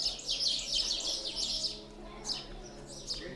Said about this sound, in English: A lot of birds live in here in this main cave